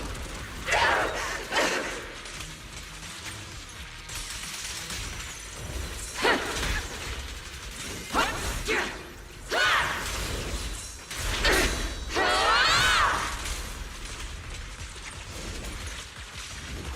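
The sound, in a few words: artillery barrage in a video game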